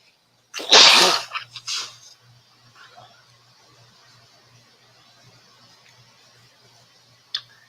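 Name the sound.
sneeze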